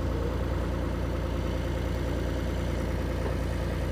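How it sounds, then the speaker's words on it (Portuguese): A tractor engine running at a bean threshing on a farm, a steady low droning rumble throughout, moderately close and unchanging, with no voices. "Como vocês podem ver, tem trator, ó, tem trator aqui, ó."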